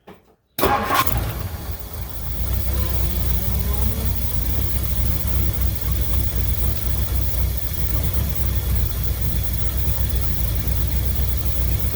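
A 1963 Mercury Monterey engine cranks and catches, then settles into a loud, steady rumbling idle through a worn-out, shot exhaust system, alone without talk.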